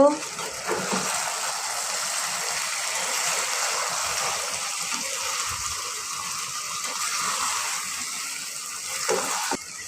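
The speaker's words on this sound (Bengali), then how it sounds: "এখন এটা আমরা দেখে নেব এবং একটু লাড়চাড়া করে নেব" Cooked taro stolons with dried puti fish being stirred in a pan, a steady hiss of frying with soft scraping and shuffling of the spoon throughout, close and fairly loud.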